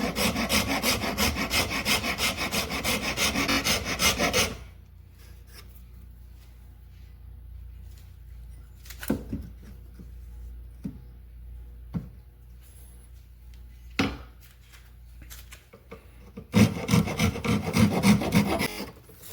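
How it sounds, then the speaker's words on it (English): A rasp files a wooden axe handle in fast rhythmic strokes, loud and close at the start and end, with a quieter gap holding only a few knocks and scrapes. "I'm going to have to use a rasp or something abrasive to work on that rather than the draw knife"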